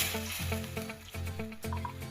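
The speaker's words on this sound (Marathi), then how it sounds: "आपण या तुपामध्ये लगेच 1 कप दूध घालून घेऊया" A cup of milk poured into hot ghee in a pan gives a steady, moderately loud sizzle and bubbling that rises and falls in short pulses.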